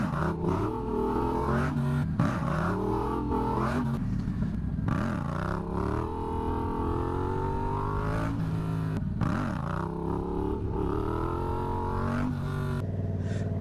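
A Yamaha MT-07 or Kawasaki Z125 motorcycle revs hard during wheelie attempts, the engine note rising and falling in repeated surges, loud and close throughout with no talking.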